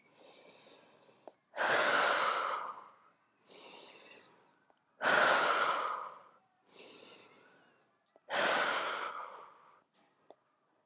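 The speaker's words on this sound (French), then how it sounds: "Relâche la tête entre les bras et à nouveau quelques grandes inspirations, expirations." Slow, deep yoga breathing close to the mic: three long, loud exhales alternate with softer inhales in a steady rhythm, each breath rushing and airy against a quiet room.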